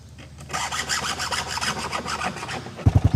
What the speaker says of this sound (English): My dad is sharpening the chainsaw because we're about to cut some firewood